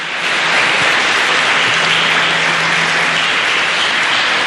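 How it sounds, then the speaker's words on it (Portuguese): A church congregation applauds loudly and steadily, a dense, continuous wash of clapping that fills the space from start to finish with no pauses, with a faint low hum underneath. "Aplaude o Senhor, querido."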